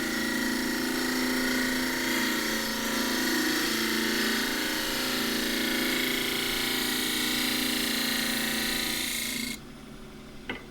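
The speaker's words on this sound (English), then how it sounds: "get in there and have a little shear cut here. This is the 3/8 bowl gouge." Bowl gouge taking a shear cut across box elder burl spinning on a wood lathe, a steady close broadband hiss with a lathe hum beneath, running without pause for about nine seconds before cutting off abruptly.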